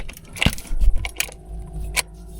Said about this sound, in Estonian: Võti sisse.